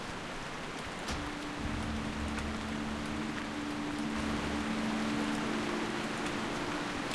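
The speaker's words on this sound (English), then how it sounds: "And it's raining." Steady rain falls in World of Warcraft, a dense, even hiss that runs alone throughout, with a low tonal hum of game ambience beneath it.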